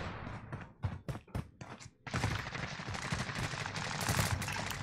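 Gunshots in the battle royale game Warzone: sharp separate shots crack out in an uneven rhythm, then give way to a sustained, loud barrage of rapid fire.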